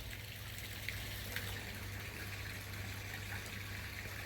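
Water gushes steadily through a home-made bead filter during a back flush, a quiet, constant rushing flow with a low pump-like hum beneath it and no voices.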